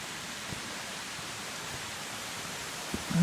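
Steady light rain falls in the Chiemgau countryside near a waterfall, a soft, even hiss throughout, with faint rustles and a small thump near the end.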